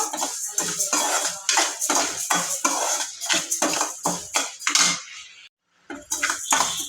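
Coriander seeds and rice are dry-roasted in a pan, giving repeated rapid scraping and rattling strokes of a utensil against metal, close and fairly loud, with a brief pause near the end.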